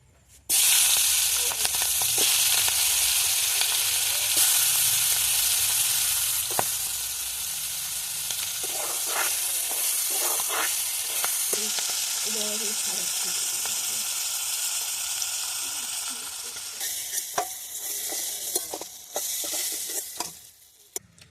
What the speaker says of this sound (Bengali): ওই তেলের মধ্যে আমি চিংড়ি মাছগুলোকে এক একে ভেজে নেব